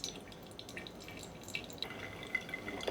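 Water is poured in an outer circle over coffee grounds for a pour-over brew, giving a soft, continuous trickle with scattered drips at low volume.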